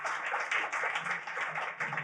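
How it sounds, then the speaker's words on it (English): A small audience at a conservation talk gives a round of applause, close, uneven clapping from a modest group lasting a couple of seconds without talk. "big round of applause there"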